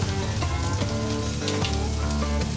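Onions and peppers fry in a hot pan with a steady, dense sizzle and crackle. The sound is loud and close, holds throughout with no voices, and is faintly stirred at moments.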